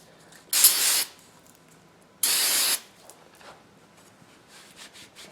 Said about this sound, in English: Wire brush.